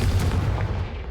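Confringo fire spell blast from the video game Hogwarts Legacy: one loud, booming burst that carries straight through the clip, heavy and dense at the low end, with no talking.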